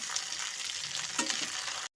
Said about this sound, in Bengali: এগুলোকে এখন সমস্ত কিছুর সাথে ভালো মতো করে একটু ভাজা ভাজা করে নেব।